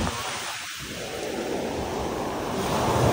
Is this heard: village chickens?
no